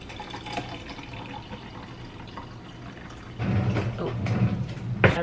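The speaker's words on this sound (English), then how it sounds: "And I'm just gonna pour hot water." Hot water pours steadily into a cup for coffee, a soft filling trickle that grows louder near the end, with a light clink at the finish.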